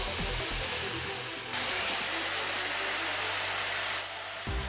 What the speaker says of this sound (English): We're also going to connect an angle grinder that operates at 220 volts and requires 800 watts of